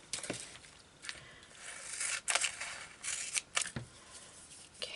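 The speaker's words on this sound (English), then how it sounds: "get my scissors" Scissors snipping through card while making altered playing cards, a series of close, crisp cuts and short scrapes at an uneven pace, with no voices.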